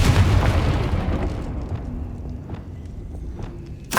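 Confringo fire spell explosion in the Hogwarts Legacy video game, a loud booming blast at the start that rumbles and decays over a few seconds, with scattered small impacts trailing off and no talking.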